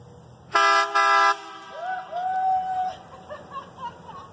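A vehicle horn on a farm tour gives two short, loud honks close by, followed by a rising and falling tonal sound and faint background noise.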